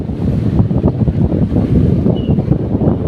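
Wind buffets the microphone loudly as sea waves roll and wash along the shore, a steady, rough roar without voices.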